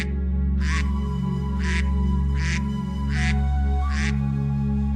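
A newly hatched cartoon duckling quacks five times at a steady, evenly spaced rhythm over a continuous music bed, each call short and bright.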